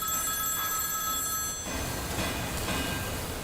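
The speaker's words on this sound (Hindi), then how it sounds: "सर मेन ऑफिस से फोन है सर।" A telephone rings for a call from the main office, with a steady electronic ring over busy, rumbling background noise.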